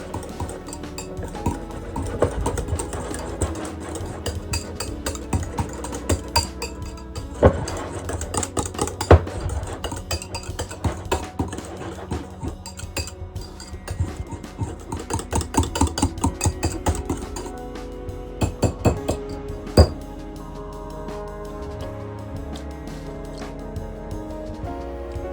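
Ingredients for air-fried salmon bites are stirred together in a bowl, with repeated clinks and scrapes of a utensil against the bowl and some irregular louder knocks over a low background hum.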